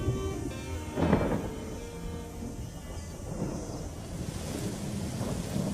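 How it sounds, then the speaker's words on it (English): A thunderstorm during the rainy season in an African delta: low rumbling thunder rolls under a steady hiss of rain and wind, loud and continuous throughout. "It's January, Abdi's first rainy season. The rains mean that he can't move around as he has been"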